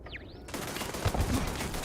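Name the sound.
grenades exploding in the video game Starfield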